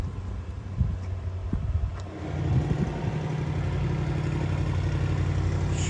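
A lowered 2024 BMW M3 CS fitted with a full Akrapovič exhaust and downpipes rumbles steadily at idle, its deep engine note swelling after a brief blip and holding a strong, continuous drone close by.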